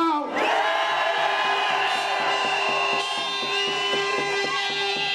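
A large outdoor crowd at an anti-lockdown protest in Manchester roars and cheers in a loud sustained swell, with a repeating horn-like drone pulsing underneath.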